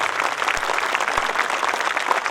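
An audience at a Republic Day celebration claps steadily, a dense, loud wash of applause from many hands lasting the whole moment.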